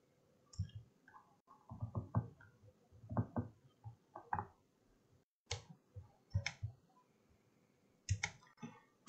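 Numbers keyed in on a computer keyboard while working in CAD software, crisp clustered key clicks in short irregular bursts with brief pauses, close and fairly quiet.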